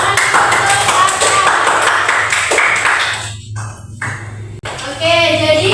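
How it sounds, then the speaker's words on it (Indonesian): Seventh-grade students in a classroom clapping together for a classmate, a loud burst of applause lasting several seconds that thins out, then a short pause before a voice resumes. "beri tepuk tangan untuk Tata."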